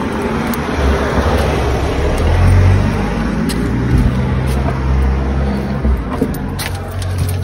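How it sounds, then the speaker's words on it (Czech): A car approaches and arrives near a garage, its engine rumbling steadily and fairly loud over continuous road-like noise, with no speech. "tady přijede auto."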